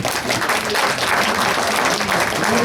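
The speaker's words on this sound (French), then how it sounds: "Je demande à ce que vous vous applaudissiez" Dense, steady applause from a concert audience fills the whole stretch, with a few scattered voices in the crowd.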